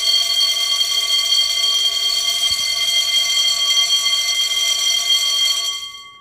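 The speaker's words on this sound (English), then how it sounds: "That is the weekly fire alarm drill, I believe." A weekly fire alarm drill sounds loud and continuous indoors, a steady shrill electronic tone that holds unbroken for several seconds before cutting off and fading to quiet.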